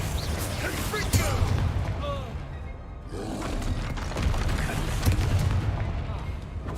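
Confringo fire spells burst in quick succession during combat in Hogwarts Legacy, giving loud booming explosions and crackling blasts layered over a rumbling game soundscape.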